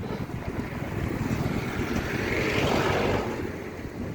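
Calm sea breeze on a boat near Pamban Bridge, a steady full wind rush over the microphone with a gentle swell in the middle, no talk.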